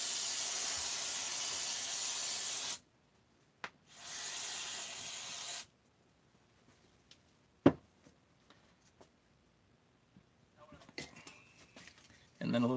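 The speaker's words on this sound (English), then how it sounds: "So now what I'd like to do is I like to hit this with brake cleaner." Brake cleaner sprayed onto a ported engine head, two loud steady aerosol hissing bursts of a few seconds each, followed by quiet clicks and small handling noises of metal parts at close range.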